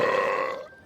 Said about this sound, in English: he let out a huge cream corn belch